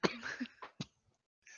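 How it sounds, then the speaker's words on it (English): Several short coughs from one person, close and fairly quiet, in a rough burst of three or four hacks with brief gaps and a faint trailing sound at the end. "Coughing apparently."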